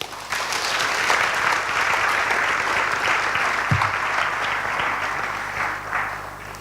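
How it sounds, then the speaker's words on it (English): Sustained applause from an audience at the opening ceremony of a UN World Tourism Organization conference for Africa, steady dense clapping filling the room for several seconds without pause. "Can we give another sunshine round of applause?"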